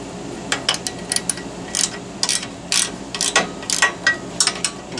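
The mounting of a Stromberg Carlson Extend A Line clothes dryer in an RV is snugged up, probably with a ratchet: quick bursts of close metallic clicking in an uneven rhythm over a low room hum.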